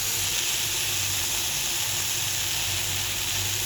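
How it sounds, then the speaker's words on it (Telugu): Mint leaves, green chilies, coriander and curry leaves fry in a pan for pudina chutney, giving a continuous even sizzle and hiss with no pauses. "ఈ ఇంగ్రీడియంట్స్ అన్నీ వేసిన తర్వాత ఒకసారి బాగా ఫ్రై చేసుకుందాము."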